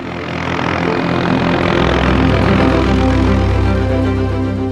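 A loud, steady helicopter engine drone fills the whole stretch, a continuous close roar with a low rumbling throb.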